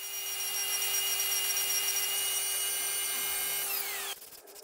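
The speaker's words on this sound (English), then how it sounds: "use the router table and a straight bit to turn the ends down to size" Router table with a straight bit turning down the ends of a wooden dowel, a loud steady high-pitched motor whine that drops into a winding-down rumble near the end.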